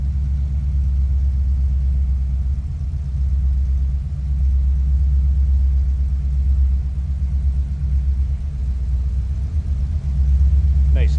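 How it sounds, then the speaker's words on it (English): A 1975 Ford F-100 shortbox pickup idling with a deep, throaty exhaust, a steady low rumble close to the microphone with slight pulses in its rhythm. "Nice little rumble. Deep throaty exhaust note."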